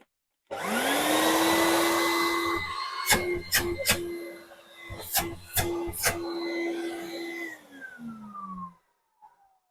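A 1980s Numatic vacuum cleaner motor spins up into a steady, loud whine. It runs for several seconds, with a few sharp knocks as it is handled, then winds down with a falling pitch and stops.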